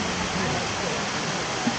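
A man-made waterfall at the Polynesian Cultural Center pours in a constant broad rushing hiss, close and loud, steady throughout.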